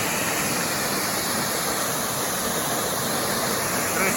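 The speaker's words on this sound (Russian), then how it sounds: "Красиво об камни разбивается вода." A waterfall crashes onto rocks in a cave setting in Goa, a steady, loud, broadband roar of falling water that holds without a break from start to finish.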